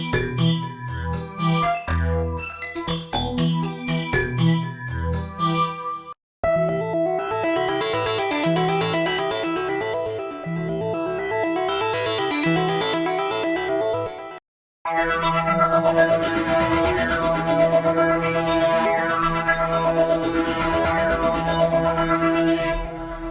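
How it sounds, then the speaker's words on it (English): Neo FM, an FM synthesizer within Cubasis 3.6, plays three consecutive demo passages of bold, 1980s-style FM sounds: a bouncy patterned riff, a dense chordal sequence, then a bright shimmering pad-like section, loud and continuous with brief breaks between them. "Playing Neo FM is a very enjoyable journey through fat, bold, 80s infused, beautifully crafted sounds."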